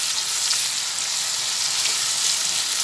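Four medium onions frying in a pan for chicken korma give off a steady, close sizzle. The hiss stays even and continuous throughout, with no talking.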